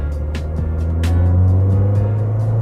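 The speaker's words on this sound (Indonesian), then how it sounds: "Teriakan VTEC-nya." An old JDM Honda engine with VTEC droning loudly and steadily at high revs, its tone rising slightly, with a few faint clicks above.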